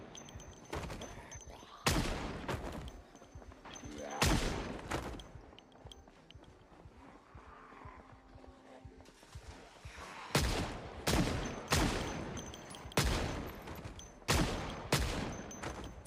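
Gunfire from shooting zombies in the video game Project Zomboid, loud bursts of rapid shots in clusters separated by quieter gaps, close and dominant with no clear talk.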